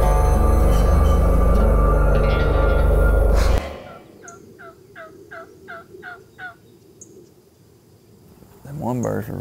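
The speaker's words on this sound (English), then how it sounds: "Osceola Turkey, it's a prized bird" An Osceola turkey gobbles at a rural roost along a tree line. A quick series of about six rattling gobbles rings out at moderate distance after a stretch of loud music and voices, followed by a brief closer call.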